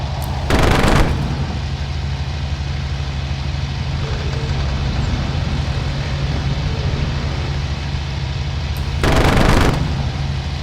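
Messerschmitt Bf 109 fighter firing its cannon and machine guns in the Cliffs of Dover flight sim: two loud, rapid bursts of gunfire, one at the start and one near the end, over a steady roaring aircraft engine drone.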